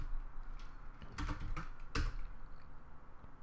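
Keys clatter on a computer keyboard as code is typed, with a few quick bursts of clicks, close and fairly quiet against a soft room background.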